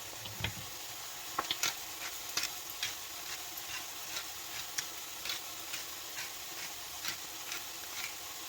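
Meat, mushrooms and onions browning in a wok make a quiet, crackling sizzle dotted with small regular ticks and pops, faint and close with no talk.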